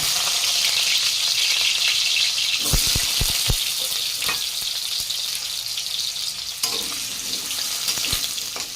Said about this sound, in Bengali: এবার ওই তেলে আলুটাও ভেজে নেব।